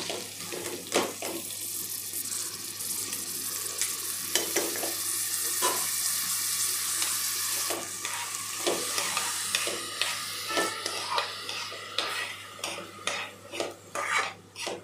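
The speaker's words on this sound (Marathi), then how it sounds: "तुपामध्ये आपण वरई छानपैकी भाजून घेऊया" Barnyard millet roasts in hot ghee in a pan, with a steady sizzle and hiss running throughout and repeated scraping strokes of a spoon against the metal, growing more distinct toward the end.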